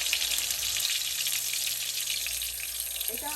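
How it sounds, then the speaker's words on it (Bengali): Chicken chapli kebabs frying in a pan of oil, a steady, bright hiss of sizzling fat with fine spattering crackle that continues without a break. "এভাবে আমি একই নিয়মে আমি সবগুলি ভেজে নিচ্ছি"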